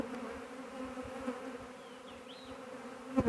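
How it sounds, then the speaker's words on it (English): A swarm of honey bees hangs on a trap, giving a faint, steady buzzing hum that carries on throughout, with a couple of soft knocks near the end. "That's a big swarm of bees"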